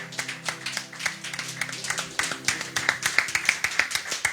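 A church congregation claps in praise of the Lord, a brisk run of hand claps that begins loose and settles into a tighter, louder rhythmic beat, with faint voices underneath.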